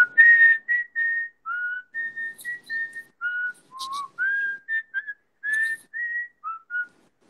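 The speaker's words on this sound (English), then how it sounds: "I love whistling, so I'm going to whistle it for you." A lone person whistles the theme tune of the TV serial Sanjeevani: a clear, bright melody of many short notes and phrases with small pauses, close and unaccompanied.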